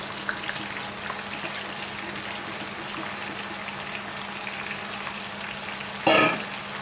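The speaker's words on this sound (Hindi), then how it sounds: "अब इसी ऑयल में गोभी ऐड करूँगी और इसी तरह गोभी को भी थोड़ा सा फ्राई कर लूँगी।" Cauliflower fries in hot oil in a pot for aloo gobi, a close, steady crackling sizzle throughout, with a sharp clatter of stirring near the end.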